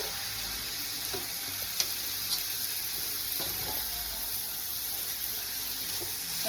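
Onion and tomato masala for crab gravy sautéing with salt in a pan, a continuous hissing sizzle with occasional spoon scrapes and taps, close and steady throughout.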